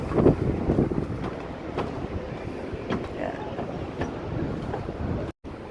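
Wind buffets the microphone in low rumbling gusts outdoors in France, steady throughout with a few muffled bursts.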